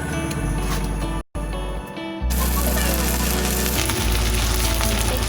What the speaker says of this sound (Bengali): এটাকে জাস্ট লাল লাল করে ভেজে তুলে নিতে হবে